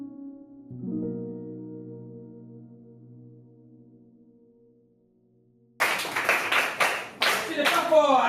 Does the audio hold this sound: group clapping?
yes